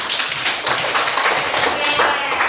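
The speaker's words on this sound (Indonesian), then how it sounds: "Tepuk tangan untuk kita semua." A classroom of students claps together in a loose, continuous patter of hand claps, fairly close and lively, with faint voices mixed underneath.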